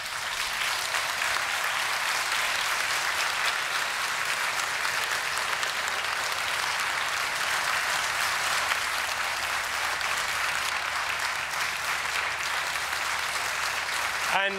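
Tutors and academic staff at a university graduation ceremony for the Faculty of Arts, Environment and Technology applaud their graduating students, a dense, sustained wash of clapping from a large hall that carries on evenly without a break.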